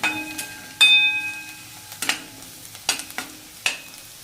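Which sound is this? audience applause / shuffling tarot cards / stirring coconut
stirring coconut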